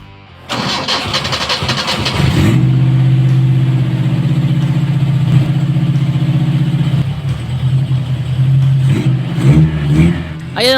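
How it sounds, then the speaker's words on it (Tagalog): An owner-type jeep engine cranks and catches, then idles loud and close with a deep rumble, rises in a few revs, settles, and is blipped again near the end. "napausok natin yung tambucho nito at talagang laki ng tunog niya mga kagwapo"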